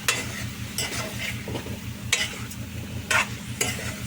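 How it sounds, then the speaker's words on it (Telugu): Drumstick curry with turmeric being stirred in a pan, with intermittent close scraping stirs over a steady low sizzle and no voices. "కొంచెం పసుపు, కలిసేదాకా తిప్పుకోవాలి."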